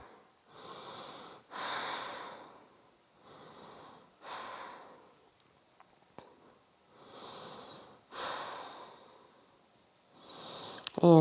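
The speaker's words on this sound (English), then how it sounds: "If you need to take some open mouth exhales" During a strength-building yoga flow, open-mouth exhales come as a series of long, breathy whooshes, close and soft, roughly six of them spaced by brief pauses, with a faint tap near the end.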